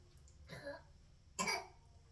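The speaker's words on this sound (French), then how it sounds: "Oh, tu tousses?" Two quiet, breathy coughs from a child sound close by, separated by a short pause, against a faint low hum.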